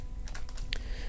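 A computer keyboard is typed on, several quick light key clicks in a short burst, close over a low background hum.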